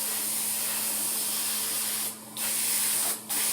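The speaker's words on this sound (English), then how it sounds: "make sure you're spraying your leading edges, your trailing edges" Aerosol spray paint hissing onto an e-flite A10 Thunderbolt II model airplane, a continuous close, bright hiss broken by two brief pauses as the nozzle is released and pressed again.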